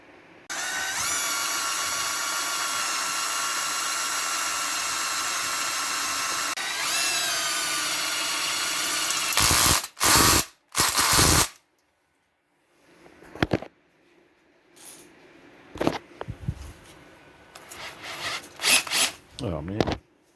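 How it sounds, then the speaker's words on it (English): A nibbling tool cuts a square hole in a homemade compact five-card mining rig frame, giving a steady loud rasping chatter for several seconds, then choppy bursts of cutting broken by pauses and faint handling noise. "nibbling tool for the cutting a square"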